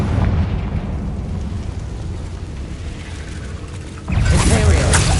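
Confringo spell explosion in Hogwarts Legacy, a sudden loud fiery burst near the end that follows a steady rumbling, crackling background.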